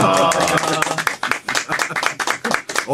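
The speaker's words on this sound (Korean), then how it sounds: "이렇게 또 박수를 쳐주는군요" Audience clapping in a Korean radio broadcast studio: a patter of individual hand claps with uneven rhythm, fairly close and moderately loud, and no speech over it.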